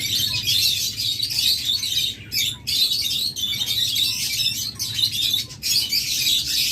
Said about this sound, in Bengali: এগুলো কোয়েল পাখিগুলো